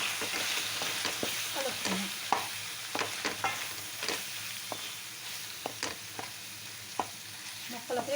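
Chicken pieces sizzle and fry in a pan with chilli powder, salt and garam masala as they are stirred, the steady frying hiss broken by repeated scraping stirs of a utensil.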